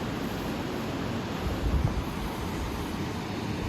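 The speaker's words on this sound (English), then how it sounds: "waves have picked up today." Surf rolls onto the beach at Destin, Florida in a broad, steady roar, with wind buffeting the microphone and a slightly louder wave surge near the middle.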